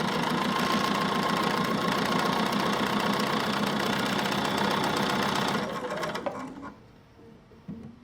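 A sewing machine runs steadily and close by, stitching rows of a nine patch quilt block with a fast, even mechanical whir, then slows and stops near the end.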